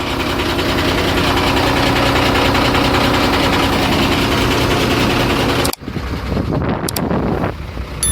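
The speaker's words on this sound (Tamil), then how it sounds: "வேலை முடிஞ்சுது வண்டி ஸ்டார்ட் பண்ணியாச்சு" A vehicle engine idles steadily after a clutch assembly exchange, a loud continuous low rumble with wind buffeting, then an abrupt drop to a quieter idle with faint clicks near the end; no talking.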